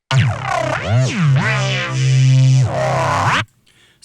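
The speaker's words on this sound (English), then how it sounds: "It brings out this characteristic phase sync kind of effect." A detuned, phase-synced synth bass in neurohop style: loud, gritty and distorted, with sweeping formant-like pitch bends and growls across several phrases, then cutting off abruptly into near silence.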